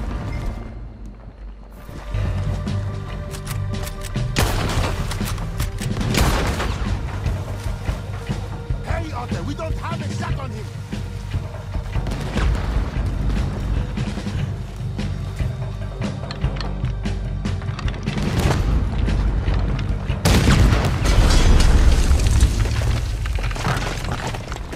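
Heavy booming cannon fire and gunshots during a ship battle in Red Dead Redemption 2, loud repeated blasts and crashes with characters shouting over the chaos.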